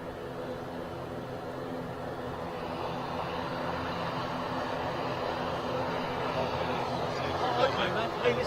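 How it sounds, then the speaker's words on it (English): An ATR 72 turboprop airliner, the first of the day, drones steadily with broadband engine and propeller noise that swells slightly toward the end, heard near and continuous without talk. "ATR 72, first of the day."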